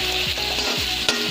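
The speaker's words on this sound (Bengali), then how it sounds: "জাস্ট আলুগুলো একটু সেদ্ধ হওয়ার মতো করে ভাজতে হবে আর কি।" Potatoes half-fry in a pan for desi-style chicken pasta, giving a loud, even sizzle with repeated stirring scrapes at a steady rhythm and a sharp clink near the end, with no talking.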